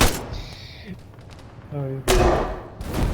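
A loud explosion or cannon shot in the military shooter ArmA 3 strikes near the end, a sharp broadband boom with a rumbling tail, following quieter thuds, with a player speaking briefly just before it.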